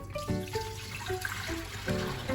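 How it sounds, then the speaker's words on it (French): A litre of milk pours into the tank of a Fagor Connect & Compact yogurt maker, a close, continuous liquid splash and trickle with a few brief bubbling surges over a couple of seconds. "dans ma cuve, je vais verser donc mon litre de lait"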